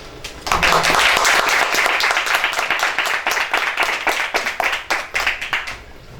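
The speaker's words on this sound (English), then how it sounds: "Give yourself a round of applause for getting out here." Audience at an indie podcast festival show claps steadily for several seconds, a moderately loud burst of applause that thins toward the end into scattered individual claps.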